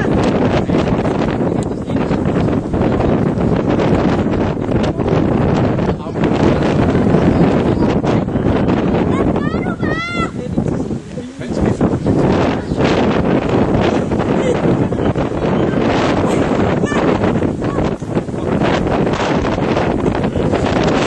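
Strong wind buffets the microphone while paddling a kayak on open water, a loud, continuous roar with gusty swells, some water splashing underneath.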